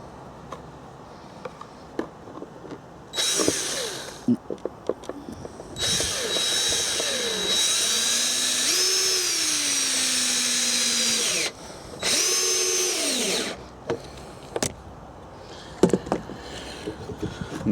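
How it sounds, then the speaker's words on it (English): A cordless power drill driving retaining screws through joined lengths of guttering outdoors on an allotment, several loud sustained whirring bursts with pitch changing under load, separated by quieter handling clicks and knocks. "What I'm going to do is just line them up together and put a couple of screws in, retainers"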